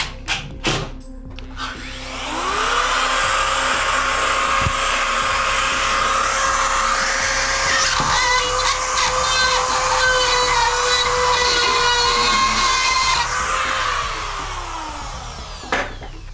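A power drill drives screws into ceiling drywall during a DIY install, a loud whining motor rising in pitch and holding for about ten seconds before winding down, with scattered knocks before and after.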